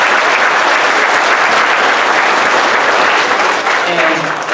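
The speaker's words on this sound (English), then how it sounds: "so I'd please love to give them a round of applause too" Loud, sustained applause from a school concert audience honoring the chorus officers, a dense wash of many hands clapping steadily throughout and tapering slightly at the end.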